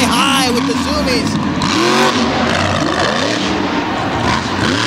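A monster truck with a big Steve Vance-built engine tears down a dirt drag strip at the Canfield Outlaw Monster Truck Drags, its loud, close engine roaring and revving in rising and falling sweeps under an excited announcer's commentary.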